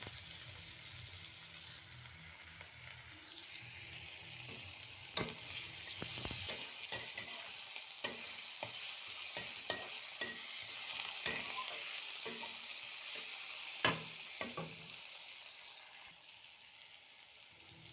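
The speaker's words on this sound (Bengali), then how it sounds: "তো সর্ষের তেলের মধ্যে এবারে দিয়ে দিয়েছে কুচনো পেঁয়াজটা।" Chopped onion fries in mustard oil for veg momo filling, a soft continuous sizzle broken by a run of sharp spatula scrapes and taps in the middle before it settles back to quiet frying, with no talking.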